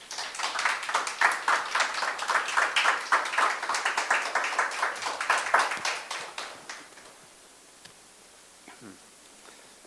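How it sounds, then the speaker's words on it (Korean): At an invited conducting lecture, an audience claps to welcome the former National Chorus conductor, a brisk run of overlapping claps for about six seconds that fades out, leaving near-silence with a few faint rustles. "큰 박수로 부탁드리겠습니다."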